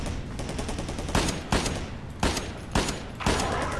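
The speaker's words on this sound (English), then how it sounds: "Wait a second, what are they shooting at?" Gunfire from the video game Half-Life: a continuous rattle of automatic fire with several sharper, louder shots standing out at regular intervals, close and loud, with no voices.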